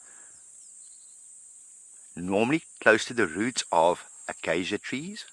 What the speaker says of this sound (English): Now that is a cicada. It's a cicada making that noise.